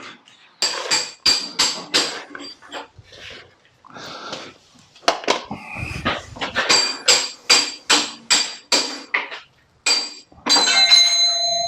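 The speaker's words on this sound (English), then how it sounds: "I do love the way you just bash everything with hammer." Sharp hammer blows strike metal in bursts of rapid, ringing clanks, close and loud, with brief pauses between runs.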